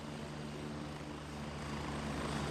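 Helicopter in the Gray Zone Warfare video game flying in for pickup, a continuous loud droning rotor and engine roar that swells slightly as it approaches, with no talking over it.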